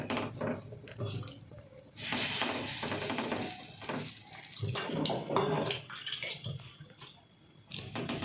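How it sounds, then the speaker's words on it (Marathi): Water dabbed onto a bhakri flatbread on a hot griddle gives a steady close wet hiss and sizzle with scraping and splashing, fairly loud and continuous, easing off briefly near the end. "असं भाकरीला पाणी लावून घ्यायचं जसं आपण भाकरीला लावतो ना तसंच सेम तेच प्रोसेस"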